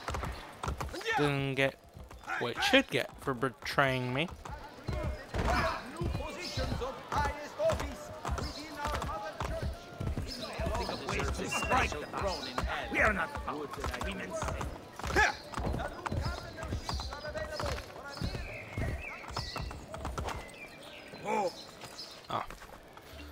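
A horse gallops in the video game Assassin's Creed Brotherhood, with steady clip-clop hoofbeats running under nearly continuous talking.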